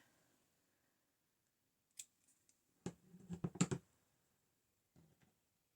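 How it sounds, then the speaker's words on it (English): Scissors snip the end of a bead thread in a few quiet, close, quick clicks and cuts clustered together, separated by near silence. "I'm just going to have to snip that end"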